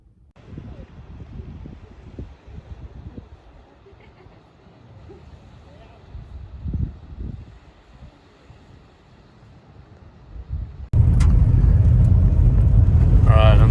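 A camper van travels rural back roads with a low road rumble and light wind noise while a person talks. A loud burst of wind buffeting on the microphone comes near the end.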